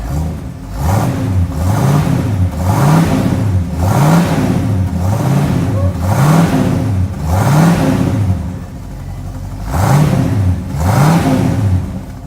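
A deep V8 engine in a Ford F100 revs repeatedly in a steady rhythm, roaring up and dropping back about every second, loud and close.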